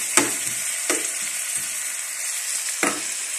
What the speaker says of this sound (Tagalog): Binisa na yung kamatis.